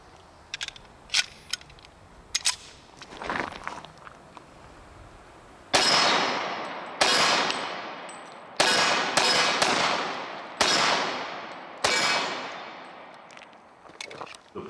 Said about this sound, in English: One more mag of practice rounds.